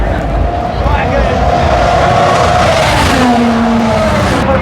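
Race cars roar through the final lap of the Grand Prix of Long Beach, a loud, continuous wash of engine noise with rising and falling engine tones and people talking over it.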